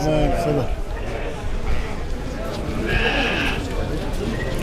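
Goats and sheep bleat repeatedly at a crowded Kurban Bayramı livestock market, close and loud, with several overlapping calls over people talking nearby.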